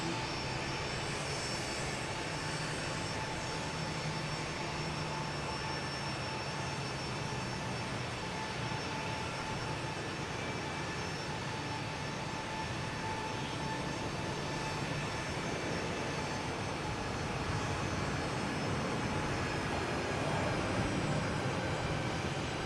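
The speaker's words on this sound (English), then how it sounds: "737-800, coming in from Nolens, Louis Armstrong International Airport" A Delta Boeing 737-800 jet airliner arriving at Boston Logan Airport produces a broad, steady engine roar that holds at a fairly constant loudness throughout, with no talking.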